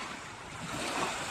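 Sea waves washing and surging steadily outdoors with wind gusting across the microphone, a continuous broadband roar that swells slightly toward the end; no voices.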